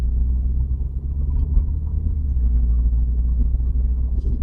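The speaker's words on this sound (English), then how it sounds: "I do like the BMW 2-litre turbo engine and the automatic box in them, it does drive really well." A BMW 2-litre turbo petrol engine with an automatic gearbox hums as a steady, low rumble from inside the moving car, smooth and continuous with no talk.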